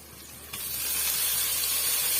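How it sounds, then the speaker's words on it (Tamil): Vegetables with chopped tomato sauté in a pan for bottle gourd kootu, a soft hiss that jumps up and swells into a steady, loud sizzle. "சேர்த்துட்டு ஓரளவுக்கு நல்லா வதக்கி விட்டுடலாம்"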